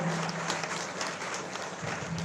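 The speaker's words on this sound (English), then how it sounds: "A huge round of applause for Bharat Reddy Garu" Applause from the audience after a speaker at a college convocation ceremony, a steady, dense clatter of many hands that fills the hall evenly with no voices over it.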